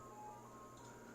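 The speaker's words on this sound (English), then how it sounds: "ice cream truck parked under my window." An ice cream truck parked outside a window plays its tinkling jingle, faint and steady from a distance over a low background hum, with no voices.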